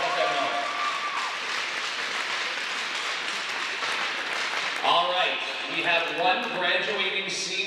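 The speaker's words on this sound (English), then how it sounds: "Give them a big round of applause." Crowd clapping at a girls high school hockey championship game fills the arena as steady broadband applause, loud and continuous, with voices calling out and chatter rising over it toward the end.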